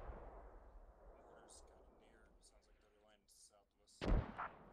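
Artillery fire in a video game lands as one heavy boom near the end, preceded by a low rumbling bed and faint voices murmuring.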